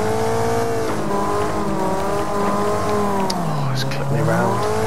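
Race cars in the Wreckfest demolition-racing video game howl around the track in a pack, with layered engine whines rising and falling, loud and close, plus brief tire squeals.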